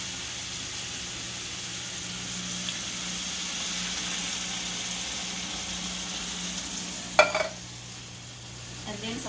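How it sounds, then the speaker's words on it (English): Fresh and canned diced tomato going into a hot pan of frying spices, giving a steady low sizzle with a brief louder splash and stir near the end. "So now I'm going to go in with the diced tomato, the fresh diced tomato. And the canned tomato."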